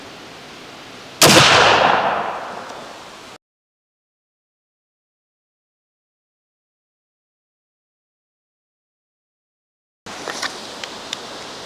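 A Thompson Center Hawken muzzleloader rifle fires one loud, close shot on a target range, a sharp blast with a long, rumbling decay, followed after a cut by quiet rustling and handling noises.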